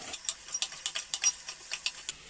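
Carrots and potatoes go into a pan of sautéed onions for a green lentil stew, giving rapid close scraping and stirring clicks over a faint sizzle, with no voices.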